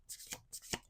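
Tarot or oracle cards riffle twice in quick, close, soft shuffles, each burst a crisp flutter of card edges ending in a tap, quiet with no talk.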